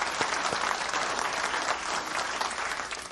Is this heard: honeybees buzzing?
no